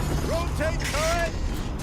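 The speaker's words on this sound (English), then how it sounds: "Rotate turret!" A turret rotating in the video game Horizon Zero Dawn, giving a short burst of creaking, ratcheting mechanical whirs with rising and falling metallic squeals, loud and close.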